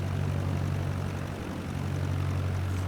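A propeller airplane engine in Microsoft Flight Simulator 2020 drones steadily and loudly with a deep, constant low hum throughout, with no talk over it.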